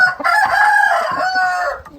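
A Thai fighting cock, a breeding rooster, crows once loudly and up close in a single sustained call lasting about two seconds.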